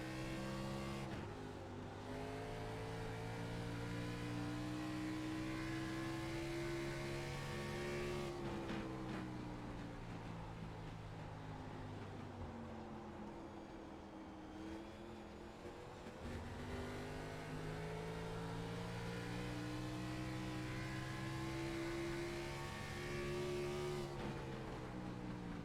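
A race car lapping the Milwaukee Mile oval, its engine climbing steadily through the revs, then lifting briefly before accelerating again, heard up close and continuous for the whole stretch.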